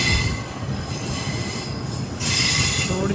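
A KTM jungle train runs on its tracks in Malaysia on the Johor Bahru to Tumpat line, a loud, steady rumble of wheels on rail with squealing. The noise swells again near the end and no one speaks.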